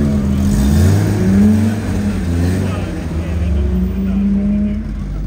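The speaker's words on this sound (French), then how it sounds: "une belle 3 litres CSI BMW." Classic BMW 3.0 CSi passing during the Tour Auto historic car rally, its engine a loud near rumble that swells and slowly fades as it goes by.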